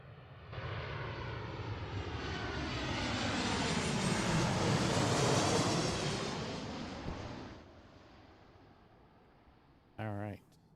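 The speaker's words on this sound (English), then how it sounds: "here is our 737-800 from San Francisco" An Alaska Airlines Boeing 737-800 arriving from San Francisco passes overhead on approach to land at Seattle. Its jet roar swells to a peak and fades over several seconds, with a brief voice near the end.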